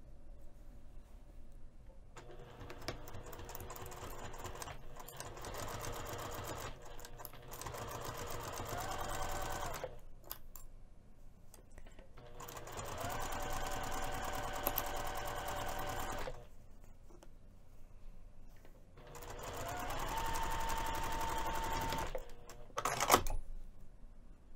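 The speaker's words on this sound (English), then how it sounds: "I'm just going to go ahead and close the opening by machine, and I'm going to use 1/8 inch seam allowance." A sewing machine stitches closed the opening of a fabric infinity scarf with a 1/8 inch seam, running in several steady whirring bursts separated by short pauses, close and fairly quiet.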